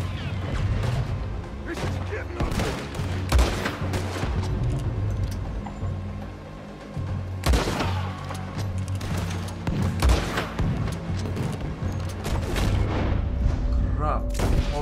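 Explosions and gunfire in Red Dead Redemption 2 during a firefight on Guarma, heavy booms and crackling shots layered densely over a low rumble throughout, loud and close, with someone talking over the action.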